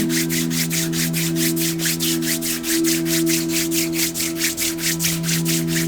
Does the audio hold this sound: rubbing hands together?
yes